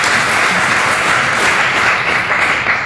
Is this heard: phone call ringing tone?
no